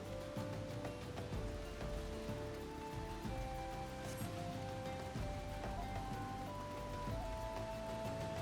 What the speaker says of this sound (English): Rain's coming down pretty good.